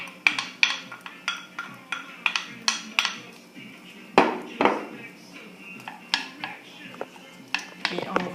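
Onions being tipped into a pan for a pizza tomato sauce, with a run of sharp metallic clinks and scrapes of utensil against pan in an uneven rhythm, close and clear.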